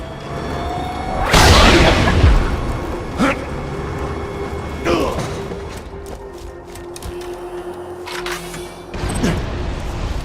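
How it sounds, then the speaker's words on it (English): A cannon fires in a video game, with loud booming blasts at spaced intervals over a steady mechanical hum and low rumbling background. "Please fire the cannon again."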